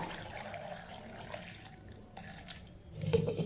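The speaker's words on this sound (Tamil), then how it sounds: "தேவையான அளவுக்கு தண்ணி ஊற்றிக்கிடுவோம்" Water pours steadily into a mixer grinder jar with a continuous splashing rush, growing fuller and louder near the end.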